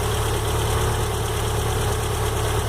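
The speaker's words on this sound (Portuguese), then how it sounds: "Esse barulho tec, tec, tec, motor novo." A freshly rebuilt VW AP car engine idles when warm, producing a steady close mechanical drone with a faint, rapid ticking woven into the continuous low rumble, with no one talking.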